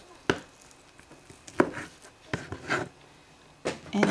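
Knife cutting through tough mushroom centers on a board: several crisp, separate cuts at an uneven pace, close and fairly quiet.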